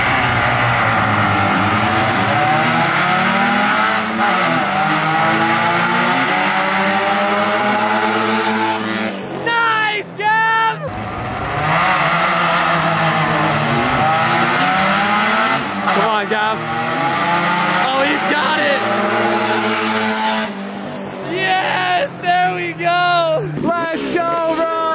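A Honda 250R three-wheeler races a supercharged Miata, loud engines revving and rising in pitch through repeated acceleration runs, with sharp tire squeals near the ends, while people shout over the noise.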